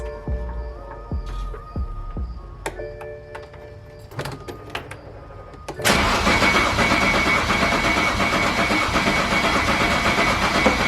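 Quiet clicks and metallic taps, then at about six seconds a BMW 135i engine with a malfunction cranks and catches, settling into a loud, steady, rough running roar.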